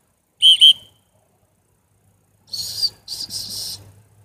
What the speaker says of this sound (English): Oh, it's a double-sided whistle